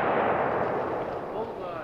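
An AR-15 semi-automatic rifle fired from an elevated tree stand outdoors: a single loud blast whose heavy booming tail rolls on and fades slowly.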